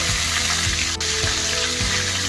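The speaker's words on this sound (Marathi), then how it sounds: "त्याचबरोबर 7 ते 8 ठेचलेल्या लसणाच्या पाकळ्या घालते" Crushed garlic cloves frying in hot oil seasoned with asafoetida, a steady close sizzle and crackle with faint stirring knocks, no voices.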